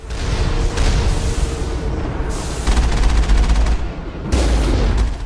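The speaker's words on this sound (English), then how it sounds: "You're gonna pistol the turrets" Bursts of gunfire from a Mass Effect firefight, a pistol fired at turrets, loud and continuous with heavy low booms and rapid repeated shots across the whole stretch.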